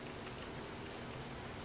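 Rain in the video game 7 Days to Die, a dense, steady hiss of falling rain on surfaces, quiet and unbroken, with no voices over it.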